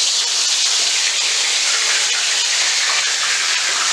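Fish frying in a pan of hot oil gives a loud, steady, dense sizzle and hiss that runs unbroken throughout, close by, with no talking over it.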